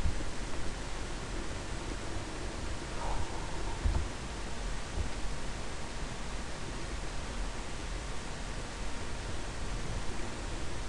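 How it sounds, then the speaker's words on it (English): Steady, loud broadband hiss from a computer fan runs throughout without change, a constant airy whoosh close to the microphone with no speech over it. "sorry for my fan being so loud right now"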